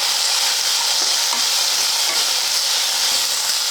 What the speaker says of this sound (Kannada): ಇವನು ಒಂದು ಸ್ವಲ್ಪ ಹುರಿಬೇಕಾಗ್ತದೆ.